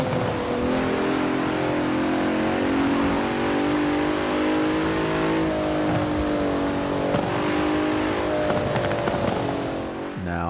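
A Bentley Continental GT Speed in the Forza video game cruises on a night drive, its engine holding a steady, resonant hum with slight rises and dips in revs and a brief crackle near the end, heard alone.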